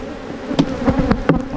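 Honeybees buzzing close around a beekeeper working the hive, a steady droning hum with a few louder passes of individual bees flying near, no talking.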